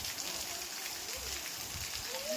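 Dense, continuous heavy rain pouring down in Chalala, a steady hiss of drops on surfaces with no break.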